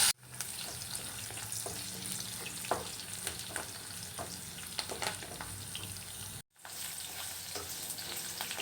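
Continuous close sizzling of chillies and onions frying in oil, with scattered clinks and scrapes of stirring, briefly cutting out once before resuming.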